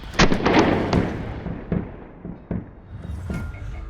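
Pistol gunshots during a shooting drill, a quick string of sharp, loud nearby cracks followed by a few more spaced shots with echoing tails, no talk.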